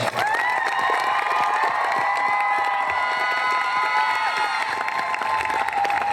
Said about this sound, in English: How about we clap it up for the senior class?